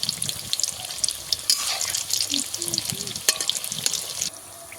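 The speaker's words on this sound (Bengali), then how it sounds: "উল্টে পাল্টে ভালো করে একটু লাল করে ভেজে নেব" Flaky Bengali nimki fry in hot oil, a dense crackling sizzle near and steady, with occasional stirring clinks and a brief pause in bubbling near the end.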